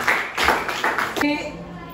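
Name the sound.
class clapping hands for a student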